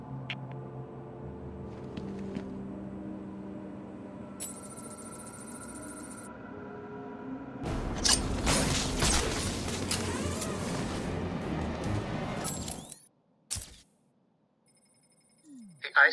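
A telephone rings in the video game Batman: Return to Arkham City, short high bell bursts heard briefly early on over a low musical drone, before loud chaotic game noise takes over.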